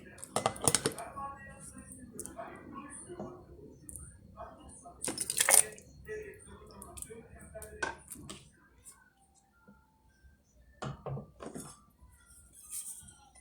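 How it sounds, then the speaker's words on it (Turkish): Metal lids being screwed tightly onto filled glass jars of hot red pepper sauce in a home kitchen, giving sharp clicks, clinks and scraping twists in short bursts separated by quiet pauses. "Doldurduğumuz kavanozlarımızı bu şekilde sıkıca kapatıyoruz."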